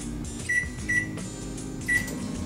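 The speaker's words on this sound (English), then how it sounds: "I have placed this bowl in the center and now I will microwave it for 5 minutes." A microwave oven runs with a steady low hum, with three short beep-like tones rising above it.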